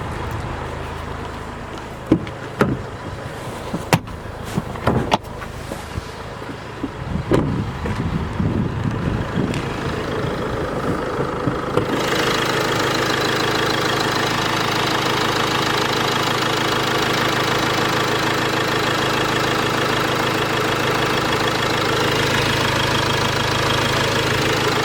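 A Land Rover Discovery Sport 2.0 TD4 turbo diesel idles under an open bonnet, heard close and steady with a diesel clatter after some early clicks and handling knocks.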